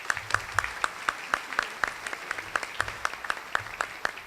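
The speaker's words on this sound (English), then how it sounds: "Big round of applause for Kevin" An audience at a community breakfast event claps in a steady round of applause, with individual hand claps standing out up close.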